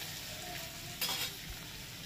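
Spices go into a pan of frying tomato and green chilli curry base for a kochuri potato curry, a short steady sizzle with a brief sharp burst of crackling and stirring scrape.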